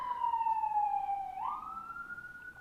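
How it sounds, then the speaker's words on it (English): A single city emergency siren wails nearby, its tone sliding slowly downward and then jumping up again, clear and steady over faint traffic. "sometimes the sirens catch me off guard"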